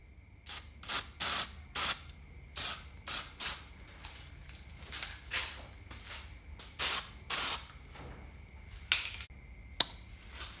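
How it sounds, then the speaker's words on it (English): Clear semi-gloss polyacrylic is sprayed from an aerosol can onto a forged blacksmith knife blade in a workshop, in a string of short, close hissing bursts with brief pauses between them. "It's just a clear semi-gloss polyacrylic spray."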